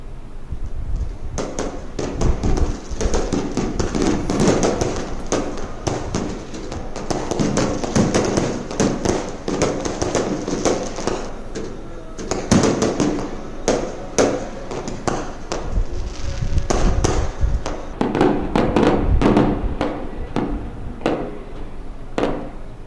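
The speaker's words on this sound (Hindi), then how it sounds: "गुरु पर्व के मौके पर अमृतसर के स्वर्ण मंदिर को सुंदर लाइटों से सजाया गया है और आतिशबाजी भी की गई।" Fireworks go off at the Golden Temple in Amritsar during the Guru Purab celebrations, with dense, rapid cracks and bangs in bursts, some close and loud, over a constant crackling background.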